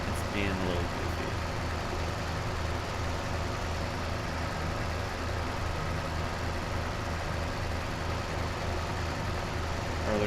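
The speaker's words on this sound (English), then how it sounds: "Our other tractor is still diligently working, sowing the rest of this field in grass." A farm tractor engine from Farming Simulator 2013 hums steadily through the whole stretch, a constant low drone of idling machinery sowing a field in grass.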